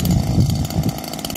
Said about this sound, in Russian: Муж у меня все идет с косой,